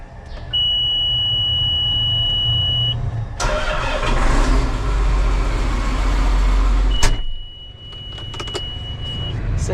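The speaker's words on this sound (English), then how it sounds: "This thing sure beeps a lot" A Bearcat machine sounds a long, steady electronic beep tone twice, loud and close, with an engine starting and running between the beeps.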